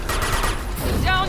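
Rapid gunfire bursts from the video game Mass Effect 2, a dense crackle of shots filling the whole clip, with a brief ringing electronic tone near the end.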